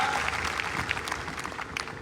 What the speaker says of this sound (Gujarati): તેમના સમર્થનને આપણે તાળીઓના ગણગણાટથી વધાવી દઈશું